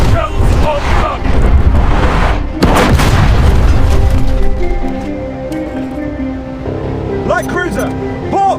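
Heavy naval cannon fire from HMS Warspite in the War Thunder Mobile game: loud, deep booms in the first few seconds roll into a rumbling tail, while in-game voice callouts speak over the battle noise.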